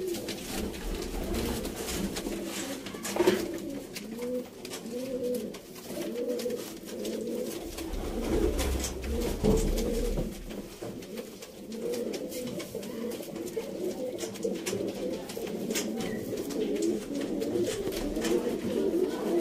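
Sialkoti pigeons coo in a continuous, layered chorus of low rolling calls close by, with a few faint clicks and shuffles mixed in.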